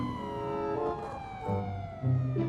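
Police car siren in a video game police chase, a close wailing tone sweeping up and down in overlapping cycles, loud and continuous with no talking.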